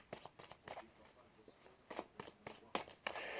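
Tarot cards are cut and shuffled by hand in a series of quick, crisp riffles and taps with small pauses between them, close and fairly quiet.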